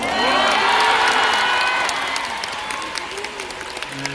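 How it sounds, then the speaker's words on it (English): A concert audience of fans claps and cheers loudly, with excited shouts and whoops over the applause, which gradually eases off toward the end. "please help me together to send support by giving them a round of applause"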